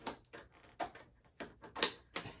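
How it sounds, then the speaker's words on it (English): Crescent Wiss shears snip through cardboard and plastic in a series of sharp, separate cuts, about six crisp crunches spaced unevenly, close and fairly quiet with no talk. "We'll cut through the cardboard and the plastic."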